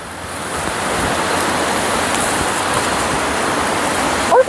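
Pala-U Waterfall near Hua Hin, Thailand, pours with a steady, even rush of falling water and no voices, ending with a brief knock near the close.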